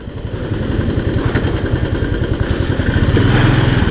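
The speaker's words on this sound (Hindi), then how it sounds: "रॉयल इनफील्ड का पुलिंग काफ़ी अच्छा है" A Royal Enfield Classic 350 single-cylinder motorcycle pulling strongly while riding on a narrow road in Dimapur, Nagaland, its loud rhythmic thump rising steadily and close to the microphone with no talk.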